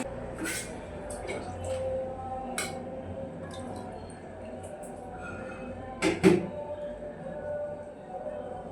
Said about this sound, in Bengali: চলো ছোলাটাকে ধুয়ে নিই।